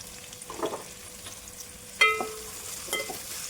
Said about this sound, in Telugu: ఉల్లిపాయ ఫ్రై చేసుకుందాం